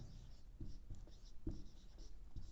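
Pen or marker scratching across a writing surface during a Hindi grammar lesson, a run of short strokes with brief pauses between them, close and fairly quiet, no voices over it.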